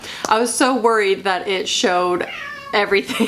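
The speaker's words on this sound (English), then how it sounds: "There he is, ladies and gentlemen, my fat cat." A fat house cat meows several times in a row, drawn-out and close, with a person talking over and between the cries.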